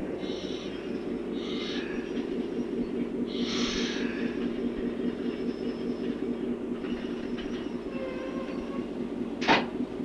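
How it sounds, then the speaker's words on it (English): A 1966 Canadian Pacific Railway train backs slowly through a rail yard, a steady low rumble of cars and locomotive with occasional clanks and a brief squeal near the end, heard at moderate distance. "The train is backing down now to pick up and load a second section shack in a row of four that were here in the yard."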